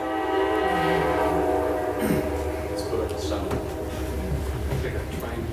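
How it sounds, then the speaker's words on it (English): A train horn sounds loudly with a long, sustained blare over rumbling rail noise at a municipal meeting in a small railroad town, with speech heard faintly underneath. "I couldn't hear you for the train horn."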